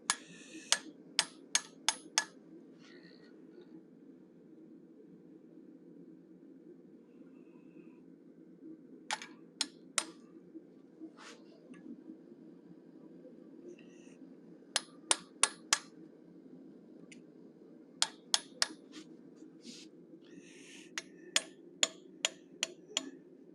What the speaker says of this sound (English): I'm using a small curved chisel.